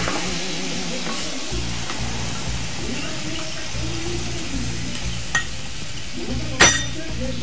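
Paneer masala sautéed and stirred in a pan over a low flame, soft continuous sizzle with occasional utensil clinks and a sharper knock near the end, over a low steady hum.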